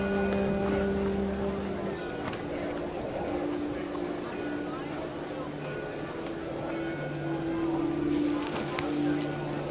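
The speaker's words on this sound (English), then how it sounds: "The rain came down in buckets then," Heavy rain pours steadily in the video game What Remains of Edith Finch, a dense continuous wash of drops with tonal music and faint voices running beneath it throughout.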